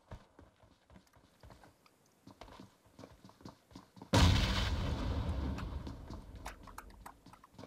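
Grenade explosion in PUBG Mobile, a sudden loud blast whose rumble lingers, following a stretch of faint clicks and taps.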